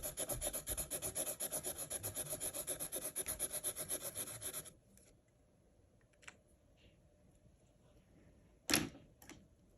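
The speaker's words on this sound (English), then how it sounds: "Then we're going to grab the peach Sharpie and color that on his skin." A peach Sharpie marker scrubs back and forth on paper in quick, even rhythmic strokes for several seconds, then stops, leaving faint taps and a brief sharp handling knock close by.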